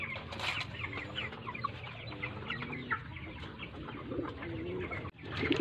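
Flock of 45-day-old broiler chickens on a farm, a steady dense chorus of clucks and calls with bird chirps mixed in, continuous and fairly close throughout.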